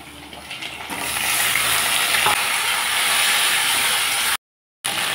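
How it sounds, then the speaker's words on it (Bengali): Potatoes and mukhi taro (arum) pieces fry in hot oil for a spicy katla fish curry, giving a steady, close, loud sizzle and hiss that cuts out briefly near the end. "একটু লালচে করে ভেজে নিচ্ছি"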